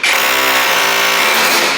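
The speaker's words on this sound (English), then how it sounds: "I'm going to drill into the block now to fit the bolts." A 10mm SDS drill boring into a block wall, a loud, steady motor whine with grinding texture held for just under two seconds.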